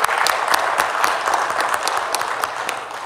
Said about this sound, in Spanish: Un aplauso para los líderes.